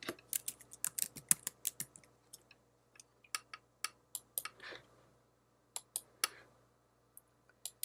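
A computer mouse gives sharp, close clicks in irregular bursts, some quick doubles and scattered single taps with short pauses between them, over a quiet low hum.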